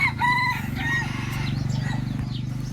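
A Thai fighting rooster crows loudly and close by, with other fowl clucking and crowing in the background.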